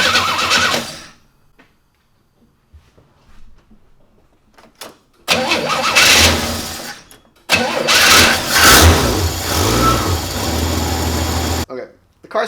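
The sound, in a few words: car engine starting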